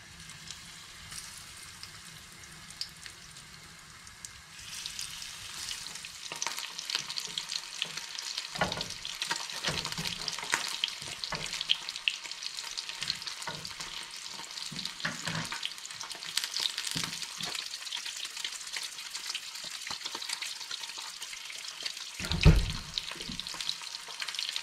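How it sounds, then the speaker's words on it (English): Freshly caught fish fillets fry in hot oil in a pan at a remote surf beach, a long, steady sizzle that swells when the fillets are turned, with a few clinks and no speech. "Get our oil nice and hot and get these fillets frying."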